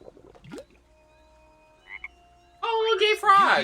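Frog croaking in LEGO Star Wars: The Skywalker Saga, a few brief croaks early on, then a loud burst of layered croaking and chirping toward the end.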